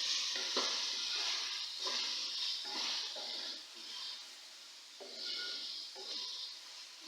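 Karela and onion with turmeric and salt cook in a pan with a steady hissing sizzle that swells and fades in waves as the mixture is stirred, with no talking.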